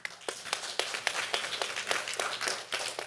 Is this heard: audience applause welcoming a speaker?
yes